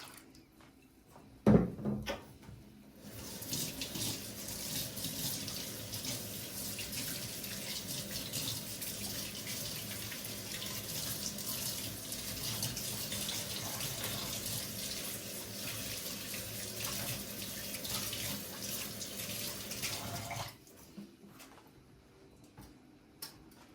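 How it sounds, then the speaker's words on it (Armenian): Water pours steadily into a cooking pot while making sweet sharots (sujukh), a continuous rushing flow lasting about eighteen seconds before stopping, close and fairly quiet, with no talk. "Ավելացնում եմ մնացած ջուրը նույնպես։"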